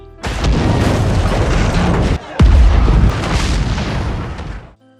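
A loud gas cylinder explosion in a film roars out, followed by a second heavy blast with a sustained rumbling boom that fades abruptly.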